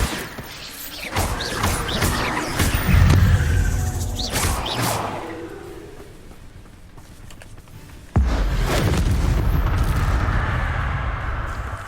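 Explosive spell blasts in the video game Hogwarts Legacy: loud whooshing bursts and booming crashes arrive in quick succession, a fading rumble follows, then a sudden heavy blast leaves a sustained roar.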